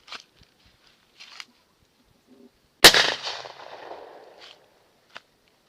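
A single sharp New Year's Eve firecracker bang cracks out close by, followed by a crackling, fizzing tail, with a few faint sounds scattered around it.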